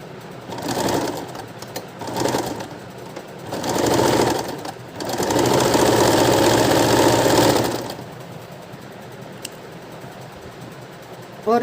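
A sewing machine stitching blouse pleats in several bursts: two short runs, a longer one, then a sustained stretch of steady mechanical whirring, with quiet pauses between and little talk.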